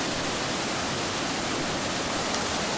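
Eurobin Falls on Mount Buffalo pours steadily, a dense, unbroken roar of rushing water, close and loud without any pause.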